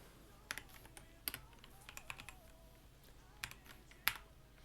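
Quiet keystrokes on a computer keyboard while a command is typed into a Linux Mint terminal, scattered soft clicks in short clusters over a low background hiss.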